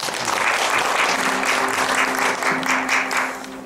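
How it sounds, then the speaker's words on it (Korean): An audience at a college keynote lecture on teaching skills claps steadily, a dense, loud wash of many hands that holds evenly throughout, with a faint sustained tone beneath. "큰 박수 한번 주시기 바랍니다."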